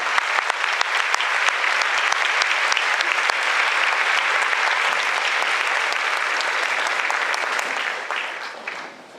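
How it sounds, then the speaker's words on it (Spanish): A church congregation applauds loudly after a Gospel reading at a night prayer service, a full, steady roar of clapping that holds strong and then fades out near the end. "un aplauso fuerte a esa palabra"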